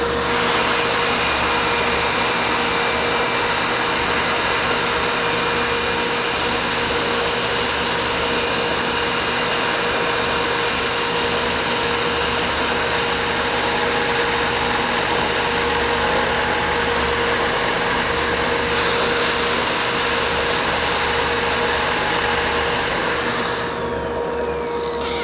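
A power sander runs on wood with a loud, constant whine and a steady motor hum, holding unbroken for over twenty seconds before easing off slightly at the very end.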